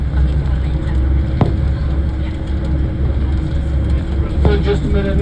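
Ice Explorer bus crossing the Athabasca Glacier terrain of the Columbia Icefield, its engine a steady close, low rumble with faint muffled voices in the cabin and a couple of brief knocks.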